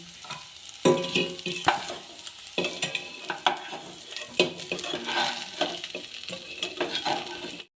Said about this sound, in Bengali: পনিরগুলো ভেজে নেবো লো আঁচে ভাজতে হবে